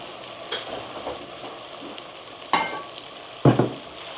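Soya chunks and green chillies frying in a pan for veg soya pulao, a steady close sizzle with a few louder scraping stirs and clatters, no voices.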